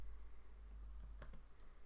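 Quiet keystrokes on a computer keyboard, a few soft clicks clustered near the middle over a low steady hum, no talking.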